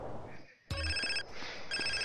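A phone rings in the video game GTA San Andreas, two bright electronic ring bursts separated by a short gap, loud and close, with game sounds underneath.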